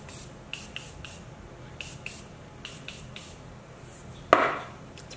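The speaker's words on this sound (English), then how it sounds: "I'm gonna use the Morphe Continuous Setting Spray because it is so good." A single short hiss of Morphe Continuous Setting Spray being misted during a makeup routine, close and crisp, standing out near the end against faint background tapping and quiet room tone.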